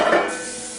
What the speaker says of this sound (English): we're going to coat our pan generously with pan cooking spray